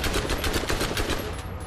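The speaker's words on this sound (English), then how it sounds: "He fires every single chance he gets." Rapid automatic gunfire from Baron Flynt in the video game Borderlands, a dense burst of repeated shots in fast even rhythm, loud and close, then cutting off near the end.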